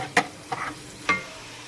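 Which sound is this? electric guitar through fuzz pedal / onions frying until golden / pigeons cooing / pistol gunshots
onions frying until golden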